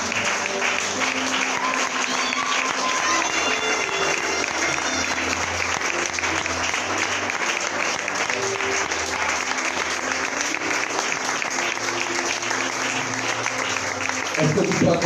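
A church congregation at a revival conference applauds steadily to welcome the prophet Armel Bonga, a dense roar of clapping with cheers and voices mixed in that holds for the full fifteen seconds.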